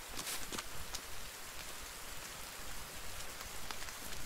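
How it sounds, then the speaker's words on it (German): Steady rain in the survival video game The Forest, a soft, even hiss of falling drops with no voices over it. "Oh, es regnet."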